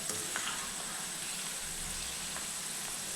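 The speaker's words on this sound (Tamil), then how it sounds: "நல்லா மொறுமொறுப்பாக நம்ம பொரித்து எடுக்கணுங்க." Sliced okra deep frying in hot oil, a steady close hiss and crackle of bubbling oil with occasional faint pops and stirring sounds, continuous and even with no speech.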